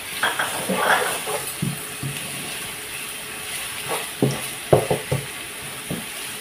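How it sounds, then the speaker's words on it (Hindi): Ginger garlic paste is stirred into onions frying in a pan for tendia aloo, with a soft background sizzle broken by scattered scraping and clinking stirs, louder near the end. "अब हम इसमें ऐड करेंगे अदरक और लहसुन का जो हमने पेस्ट तैयार किया था, ये इसमें ऐड कर देंगे और इसे मिक्स कर देंगे"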